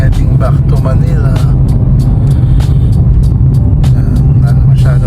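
A car cruising along the NLEX highway toward Manila at midnight, loud steady road and engine rumble with tire noise filling the cabin, punctuated by brief clicks and rattles.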